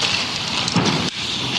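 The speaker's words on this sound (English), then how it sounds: "while the rain still pours" Heavy rain pours down in a steady dense hiss, loud and close, with a brief swell of louder drumming partway through and no voices.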